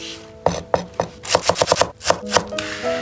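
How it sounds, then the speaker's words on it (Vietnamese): Green onion stems being chopped with a knife on a board, a quick run of sharp, close knocks, first spaced apart and then in a rapid burst. "Phần thân hành thì mình cũng sẽ thái nhỏ"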